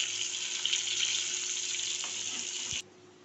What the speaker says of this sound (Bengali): আর সাইডে দেখতে পাচ্ছেন আপনাদের এই পটলটা আলুটাও ভালো করে লাল লাল করে ভাজা হয়ে যাচ্ছে